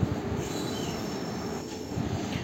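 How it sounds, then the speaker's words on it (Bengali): The 12680 Coimbatore–Chennai Central Intercity Superfast Express rolls into Katpadi station, a steady, close rumble of rail wagons with wheel noise and a faint high squeal running throughout, no voices. "12680 Coimbatore MGR Chennai central intercity superfast express Katpadi স্টেশনে ঢুকছে"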